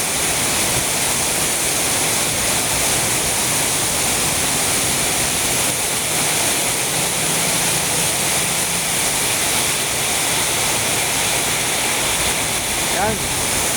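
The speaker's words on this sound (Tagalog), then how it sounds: "Grabe, ang lakas ng ulan." Heavy typhoon rain pours down in Dasmariñas, a loud, dense, unbroken roar of rainfall and wind that fills the whole stretch without pause.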